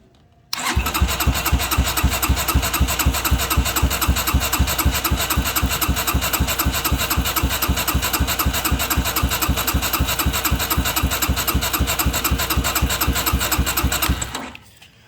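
A Honda CD70 motorcycle fitted with a lithium battery pack is cranked on the electric starter with its spark plug removed, producing a steady, loud, rapid churning that runs continuously for about fourteen seconds and then stops, with no talk.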